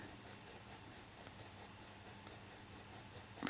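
Colored pencils scratching softly on paper, a faint continuous scribbling texture of close, quick strokes, ending with a sudden louder knock.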